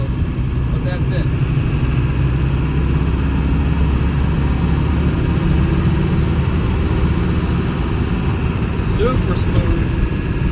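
A 1992 Land Rover Defender 110 200Tdi County station wagon climbs a hill in fourth gear at about 35 mph, its diesel engine and road rumble droning steadily and loudly from inside the cabin.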